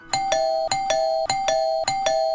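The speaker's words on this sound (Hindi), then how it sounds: "उसने गुस्से में अनिरुद्ध के कई बार डोरबेल बजाने पर भी दरवाजा नहीं खोला था।" A doorbell chimes repeatedly in a steady, even rhythm, several bright ding-dong rings following one another with short gaps, close and clear with no voices.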